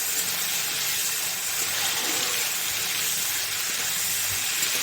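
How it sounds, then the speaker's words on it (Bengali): Prawns and green chillies frying in a pan give a steady, close broadband hiss and sizzle that runs unbroken, with no voices. "চিংড়ি মাছ কাঁচা লঙ্কাটা একটু ভালো করে ভেজে নিই, খুব কড়া করে ভাজবো না।"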